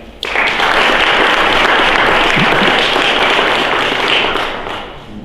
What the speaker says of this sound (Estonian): Nii et teeme aplausi veel kord ka neile.